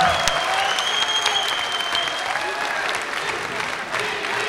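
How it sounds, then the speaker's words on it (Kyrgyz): An audience at a comedy stage show bursts into applause, a dense, loud, sustained clapping from a large crowd with no break. "Кол чабуулар."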